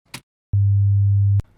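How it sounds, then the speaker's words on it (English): A steady 100 Hz sine wave test tone sounds alone for just under a second, starting and stopping abruptly with clicks, loud and unwavering. "sine wave, which is on 100 Hz"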